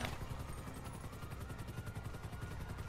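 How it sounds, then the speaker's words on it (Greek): A helicopter in GTA 5 approaches with a fast, steady rotor chop pulsing throughout, faint and distant under a dense wash of game noise. "κι άλλο ελικόπτερο έρχεται"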